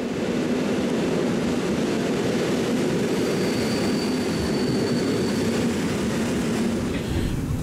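Steady low rumble and rolling noise of a train departing in Poland, heard on board between Kraków and Katowice, with a faint thin whine partway through; no voices.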